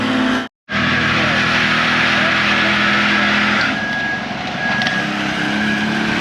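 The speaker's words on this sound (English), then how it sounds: "From the sounds of the truck, I think they're going to be just fine." A concrete truck's diesel engine runs loud and steady while it pours concrete in front of a shop, a constant roar that shifts slightly in pitch partway through.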